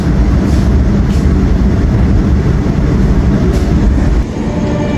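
A train at Kroya station in Indonesia gives a loud, steady low rumble and hiss that stays constant throughout, close and unbroken, with a slight dip near the end.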